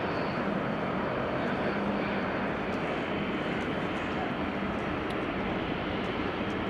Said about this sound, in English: It is an American being loud using reversers.